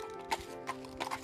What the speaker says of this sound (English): So after I cinch him, I always move my horse around just a little bit. 4 or 5 steps both ways